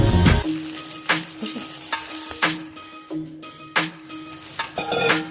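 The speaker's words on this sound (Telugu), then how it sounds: "ఇప్పుడు మనము దీనిలోకి మనము ఆల్రెడీ ప్రిపేర్ చేసుకున్న పల్లీలు, నువ్వులు, పుట్నాలు దాంట్లో వేసుకొని కలిపి దింపేయాలి." A spoon stirs peanuts, sesame seeds and roasted gram into hot jaggery syrup in a pan, scraping and clanking close by over a steady sizzle, with no talking.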